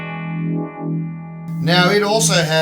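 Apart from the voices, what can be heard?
guitar through funk channel preset on Sonicake Matribox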